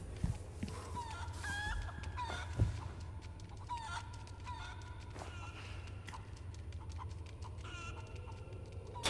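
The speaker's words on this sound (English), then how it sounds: "I'm just waiting for the chicken to lay another egg." Chicken in the Resident Evil 4 remake game clucking repeatedly in short bursts, with a brief crow-like call, over a low ambient hum; no talking.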